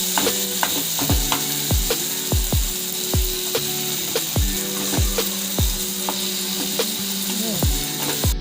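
Tomatoes being mashed in a kadhai for pizza sauce, giving a steady run of sharp wet thuds and scraping strokes roughly every half second over a low constant sizzle, close and fairly loud.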